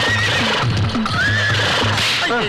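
A horse gives a loud, close whinny with a rising, wavering tone, over rhythmic hoof clip-clops and steady background noise.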